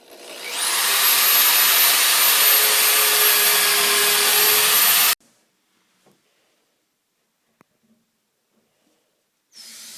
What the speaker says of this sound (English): I'm going to go ahead and drill some pilot holes and then sink in some screws and finish this up.